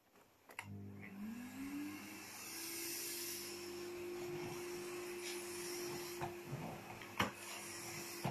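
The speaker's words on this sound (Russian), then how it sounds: "Сейчас включим пылесос. Включаю на среднюю мощность режим ковер." A Bosch BGS 62530 ProPowerPlus Relaxx bagless vacuum cleaner switched on at medium power in carpet mode spins up within a second into a steady, close whining roar with a sustained tonal hum, running alone.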